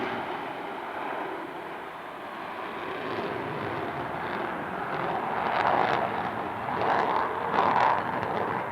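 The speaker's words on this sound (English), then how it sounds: "approaching from the right is the F-14B Super Tomcat" An F-14B Super Tomcat jet flies past at a 1993 airshow in Erie, a broad steady roar that swells gradually as it approaches, peaking loudest near the end.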